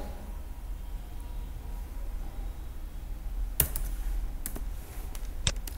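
A warehouse address is typed on a computer keyboard for restaurant POS software, with a few quiet, scattered key clicks over a low steady hum, close and faint.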